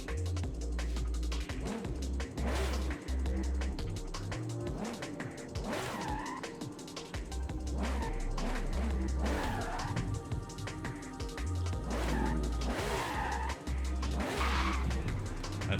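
Car tyres slipping and skidding in Forza Horizon 5, with repeated wavering squeals over a low engine rumble, rising and falling in several bursts across the stretch with no talking.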